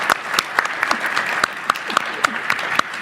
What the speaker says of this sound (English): But we could have a round of applause